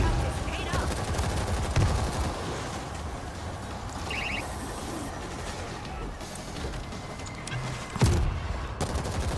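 Gunfire in the World War Z zombie shooter during a chaotic Tokyo level, dense rattling shots layered under a busy game mix, with a sharper burst near the end.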